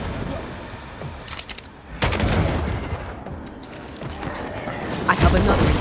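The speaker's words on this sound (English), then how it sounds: "I think I heard the sound of a gun." Gunshots in Banishers: Ghosts of New Eden, sharp bangs and bursts of fire over a noisy game soundscape, with some voices mixed in.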